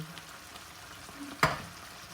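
Steady sizzling of meat frying in a pan, with a brief louder clatter midway as canned chopped tomatoes are stirred in.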